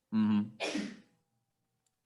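A single sneeze, close and fairly loud: a voiced intake followed by a sharp, breathy burst, with silence afterward.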